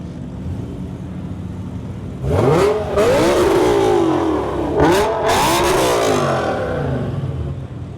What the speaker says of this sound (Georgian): ნამდვილი ეს არის ნამდვილი ძრავის ხმა